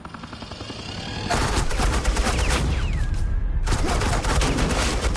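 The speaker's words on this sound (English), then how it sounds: "Suppressing fire." Sustained automatic gunfire laying down suppressing fire in Batman: The Enemy Within, a loud rapid stream of shots filling the scene almost without pause, joined by a brief whizzing sweep midway.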